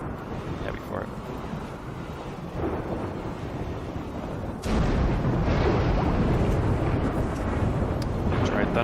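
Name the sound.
thunderstorm in RimWorld video game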